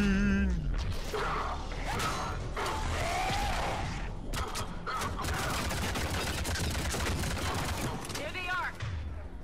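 Mass Effect 3 gunfire rattles in bursts of shots over mechanical clanks and creaks, with sounds of combat throughout. A voice speaks briefly near the start.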